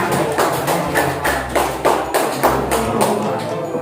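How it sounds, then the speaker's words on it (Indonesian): Students in a classroom clap for a classmate, a short burst of fairly loud, evenly paced hand claps that rises together and fades within a few seconds, with no one speaking over it. "Beri aplaus buat temannya."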